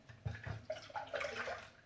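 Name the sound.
pouring a tin of evaporated milk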